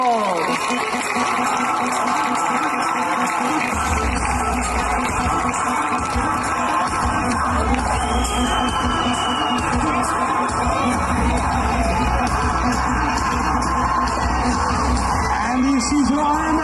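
Spectators at the swim start of the Ironman Africa Championship yell, whoop and cheer loudly and continuously, a dense close crowd roar holding steady throughout with individual shouts standing out.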